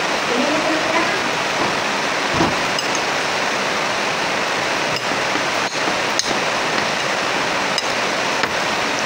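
Heavy, continuous rain pours down during flooding in a steady, dense roar that never lets up. A few faint knocks sound beneath it.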